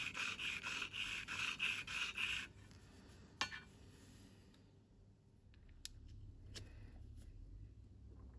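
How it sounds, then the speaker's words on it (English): A lathe tool is honed by hand on a sharpening stone to take off grinding marks, heard as a few short, close rhythmic rubs followed by quieter scrapes and small clicks. "This allows me to repeatedly sharpen this tool accurately. It just takes a few rubs to remove the grinding marks."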